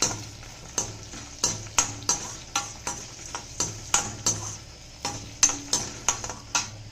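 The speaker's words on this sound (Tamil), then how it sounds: "எடுத்து வச்சுருக்கிற மல்லி கடலப்பருப்பு உளுத்தம்பருப்பு வெந்தயம் எல்லாத்தையும் போட்டு வந்துடலாம் இதை நம்ம செவக்க வறுத்துக்கலாம்" Coriander seeds, chana dal, urad dal and fenugreek dry-roasting in a pan, with a rhythmic series of sharp scrapes and clacks from a spatula stirring them about once every half second over a faint sizzle.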